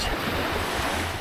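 Surf washing onto Pemuteran Beach in Bali, a steady broadband roar of breaking waves, loud and continuous, with wind buffeting the microphone and no voices.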